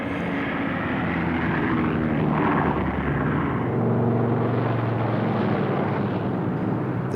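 A North American AJ Savage carrier bomber with two piston engines and a single jet engine roars steadily, a loud sustained engine drone that swells slightly as it passes.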